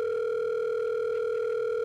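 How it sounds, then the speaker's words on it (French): A continuous phone dial tone during a call in the video game GTA RP, a steady, clear electronic hum heard alone for a couple of seconds. "Je peux appeler Milalo pour voir si elle est ok."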